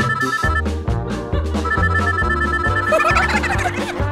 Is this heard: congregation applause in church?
no